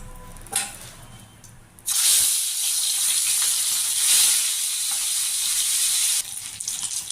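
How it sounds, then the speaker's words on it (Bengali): Fish heads dropped into hot oil burst into a loud, continuous hissing sizzle that holds steady for several seconds before easing slightly near the end; no one speaks. "আমি মাথাগুলো ভেজে নেব তেল আমার গরম হয়ে গেছে"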